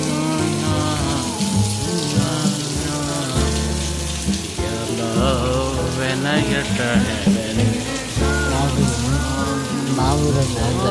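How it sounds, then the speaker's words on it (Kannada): Heavy evening rain around 8 pm at a house, a continuous hiss of downpour and dripping water, with voices and music-like tones running over it. "ಮಳೆ ಹೆಂಗೆ ಬರ್ತಿದೆ ಎಷ್ಟು ಜೋರಾಗಿ"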